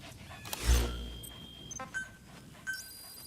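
A dog pants in the video game Metal Gear Solid V: The Phantom Pain, quick soft breaths heard alone after a low thump, with faint electronic tones in the background.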